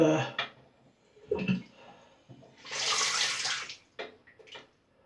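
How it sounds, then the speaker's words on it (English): Brief bursts of running water splash from a tap onto a shaving brush, loudest in one steady gush, between quiet clicks, handling noises and a few soft words. "I'm just going to add more water to this brush"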